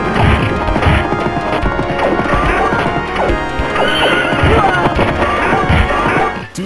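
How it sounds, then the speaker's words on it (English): Horses whinny and gallop with hooves clattering in a chaotic beat 'em up video game brawl, loud and dense, mixed with smashing hits, crashes and game music throughout. "Horses are also present and of extreme importance, cause we can use them to ram the enemies."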